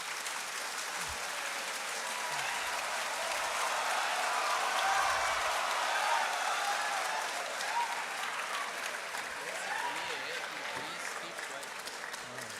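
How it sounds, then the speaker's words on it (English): Sustained applause from a student audience in an auditorium at an IIT Kharagpur welcome event for second-year undergraduates, a dense, even roar of clapping that swells midway and carries on for over twelve seconds. "thanks for the applause"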